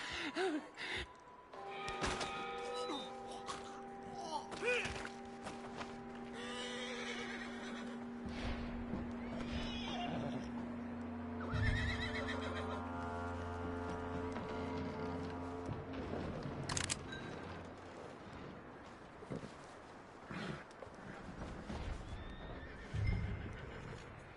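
A horse in Red Dead Redemption 2 neighs and whinnies with snorts and hoof clops, set against the game's ambient music and occasional movement sounds.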